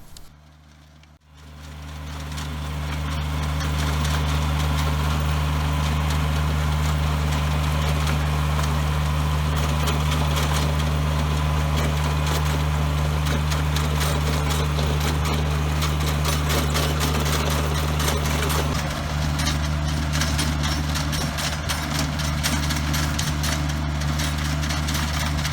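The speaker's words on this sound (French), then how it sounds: "on a fait l'achat d'un rotoculteur pour monter derrière" A tractor with a rotary tiller drones steadily and loudly, with a low rumbling hum and a mechanical clatter running throughout.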